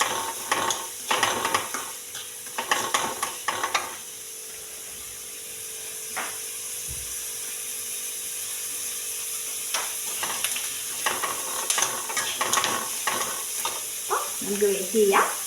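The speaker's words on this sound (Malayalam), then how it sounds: "നമ്മളെ സവാള ഒന്ന് വഴന്ന് വരട്ടെ" Two small onions sauté with dried red chillies and popped mustard seeds in hot oil for a curry, giving a steady close sizzle broken by bursts of spoon-stirring and scraping against the pan.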